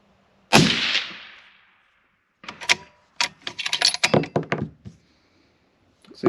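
A single sharp, loud shot rings out from a 6.5 Creedmoor rifle firing a first batch of handloads with Winchester large rifle primers, its blast decaying over a second and followed by clicks and clatter of handling.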